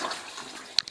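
An oyster mushroom substrate block, just lifted from a water soak, gives off a faint, airy hiss up close, fading within a second and ending in a few small wet drips.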